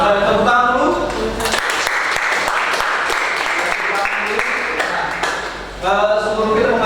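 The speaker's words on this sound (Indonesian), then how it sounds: "Terus saudara tepuk tangan dulu." Students in a vocational high school design class clap together, a dense burst of applause filling the room between stretches of a teacher's speech at either end.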